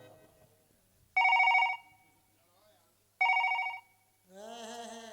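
A telephone rings in two loud, clipped bursts a couple of seconds apart during an outdoor Ramlila stage performance, then a voice begins, singing or speaking.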